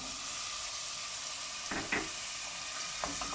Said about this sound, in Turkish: Ve bunlarla da birazcık kavuruyorum.